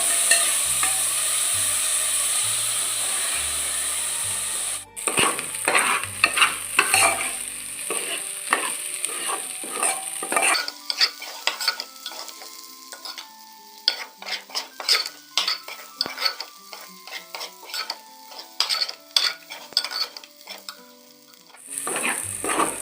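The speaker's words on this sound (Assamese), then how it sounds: "চাউলবোৰ অলপ সময় ভাজিব লাগিব।" Rice with a little sugar being stir-fried in a pot for pulao, a bright hiss of frying under rapid, uneven scraping and clinks of a spoon against the metal, close up and continuous with no voices.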